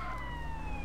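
An ambulance siren wails in the video game GTA San Andreas, a steady high tone sliding gently downward over a low engine hum, brief and fairly loud.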